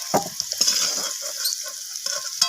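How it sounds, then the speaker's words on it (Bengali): Potatoes seasoned with salt and turmeric fry in hot oil, giving a bright, crackling sizzle with scattered pops and a few stirring scrapes, close and alone. "তো আলুটাকে এবার আমি লালচে করে ভেজে নেব।"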